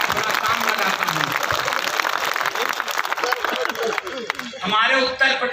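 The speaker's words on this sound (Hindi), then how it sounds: "ताली बजाइए" Audience applause at a Hindi comedy poetry gathering, a dense clatter of many hands clapping together under a voice, before the claps fade out near the end.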